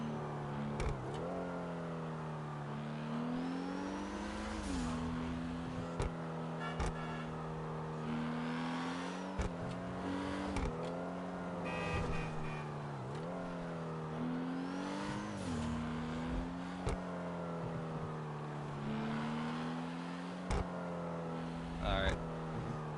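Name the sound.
cars driving in the video game GTA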